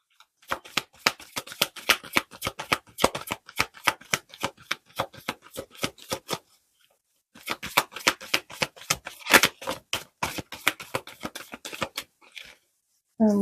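Tarot cards are shuffled in rapid riffling bursts, close and crisp, running in two long runs separated by a short pause, with a brief sound at the end.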